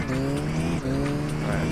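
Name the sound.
Mini car driving and tire squeal in The Italian Job video game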